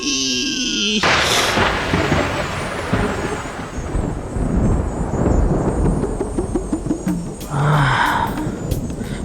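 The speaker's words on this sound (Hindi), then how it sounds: "बिजली कड़की है।" A loud thunder clap from a lightning strike bursts in suddenly and rolls into a long, heavy rumble, with a brief tonal musical sound near the end.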